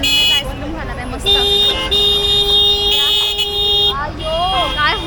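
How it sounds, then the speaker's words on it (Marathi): Several loud, sustained vehicle horn blasts sound at a busy weekly market in Rajapur on a rainy day, overlapping one another over crowd noise and chatter. "अयो काय हॉर्न वाजतंय बघा मस्त."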